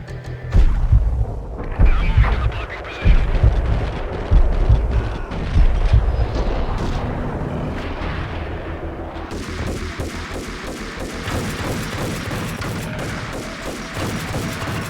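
Gunfire in the video game Max Payne: heavy, punchy shots in separate bursts, then a denser continuous rattle of fire and booms. No one speaks over it.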